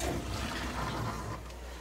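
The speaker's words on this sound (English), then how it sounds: "I guess first let's run some water on the hot side." Hot water rushes steadily from a tap feeding a tankless water heater during a filter replacement, a close, constant hiss and splash with no talk, tapering slightly near the end.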